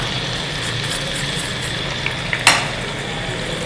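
Whole spices, black peppercorns and salt sizzle steadily in a pan for maska biryani, a continuous close frying hiss with a sharp crackle near the end and no voices.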